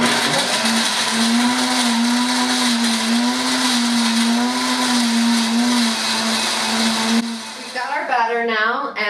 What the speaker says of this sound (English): Okay, we're gonna blend this bad boy up.